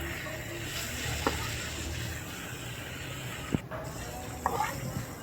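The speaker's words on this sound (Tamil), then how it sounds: "கருவேப்பிலை பொரிஞ்சதும் நம்ம ஊற வச்சு வச்சுக்கிற காடையை சேர்த்துக்கலாம்" Marinated quail pieces sizzle in hot oil with fried curry leaves, giving a steady close hiss with a few soft clinks of stirring.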